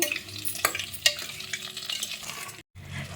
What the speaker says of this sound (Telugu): అంతా బాగా మిక్స్ చేసుకోండి.